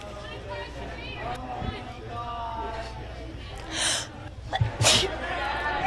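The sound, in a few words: sneeze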